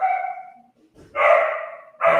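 Neighbours' dogs bark in two loud, close bursts, a sustained bark-howl at the start and more yapping after a short pause, with no talk over them.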